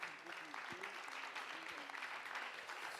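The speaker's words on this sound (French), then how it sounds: "on peut applaudir nos intervenants" Conference audience applauding speakers at the close of a forum session, a steady patter of clapping hands throughout with a voice speaking over it.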